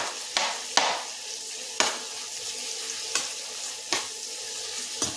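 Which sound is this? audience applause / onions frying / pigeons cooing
onions frying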